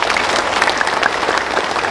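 Steady applause from an audience at an Indonesian ceremony honouring officers, a dense wash of clapping hands filling the whole stretch evenly without a break.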